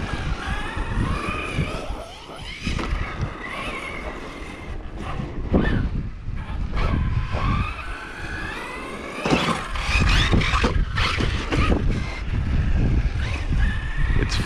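Team Corally Kagama 6s RC car driving and jumping on a belted terraform track, a whining electric motor rising and falling with throttle bursts amid gusty wind noise, close and loud.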